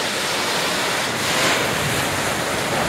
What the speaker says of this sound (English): So there you have it, the ocean.